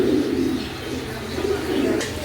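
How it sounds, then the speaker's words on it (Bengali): A magpie pouter pigeon gives soft, low, repeated coos close by, a gentle throaty burble in two or three short bursts. "তারপর দেখতে একটা ম্যাকপাই পটার"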